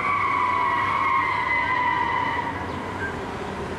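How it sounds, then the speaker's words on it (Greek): Street traffic in Bethlehem gives a loud, continuous hum of passing cars, with a sustained squealing or horn-like tone across the first half that then fades, and no voices heard. "Ακούγονται κόρνες, φρεναρίσματα, επιταχύνσεις, ημάμις, φρεναρίσματα, χαμός γίνεται, φωνές."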